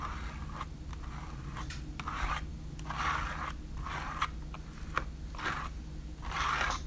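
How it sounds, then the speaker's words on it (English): Gel paste scraped across a stencil with a spreader, a series of soft rasping strokes that repeat in an uneven rhythm at close range with no voices. "Just scraping it on through the stencil."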